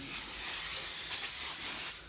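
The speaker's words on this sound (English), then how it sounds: "Give it a little spray and wipe it off with a rag, some paper towels" Brake cleaner sprays onto brake parts on a Cadillac CTS-V, a close, loud hissing aerosol burst lasting about two seconds with slight pulsing.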